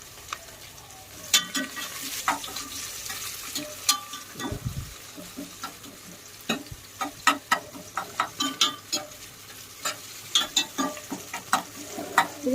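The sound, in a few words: onions frying with whole garam masala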